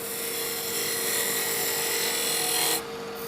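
A lathe turns a small wooden whiskey tumbler at high speed while a cutting tool shears steadily against it, a loud continuous scraping hiss close by that cuts off near the end.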